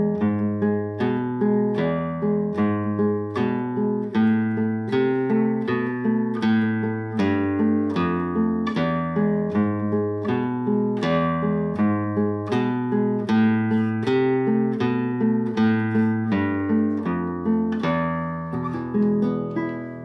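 Flamenco guitar playing a Malagueña variation at slow tempo, evenly spaced plucked notes over repeating bass tones in a steady, continuous pattern, close and alone.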